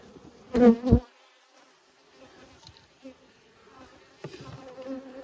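Honey bees buzz around an open brood box during spring hive management, with a loud, close burst of buzzing near the start that fades to a faint, steady hum.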